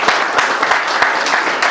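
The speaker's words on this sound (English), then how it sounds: "Let's give Andrew another round of applause." Loud, close crowd applause at a political gathering, a dense continuous clatter of many hands with sharper individual claps popping through, steady for the whole short stretch.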